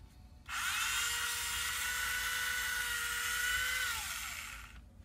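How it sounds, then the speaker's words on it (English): A small hobby drill for building plastic scale models whirs up with a sudden start, holds a high, steady motorized whine for about four seconds, then spins down and cuts off, close and alone. "it's supposed to lock the trigger where it continuously drills. Just like a regular drill."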